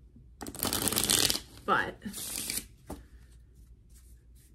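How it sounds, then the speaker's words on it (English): A deck of cards is shuffled twice in quick bursts of riffling flutter, close and crisp, with a brief spoken word in between. "All right, I'm going to do 2 more shuffles."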